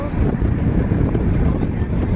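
Heavy wind buffets the microphone with a constant loud, low rumble that drowns out everything else, on a sea trip to Boracay.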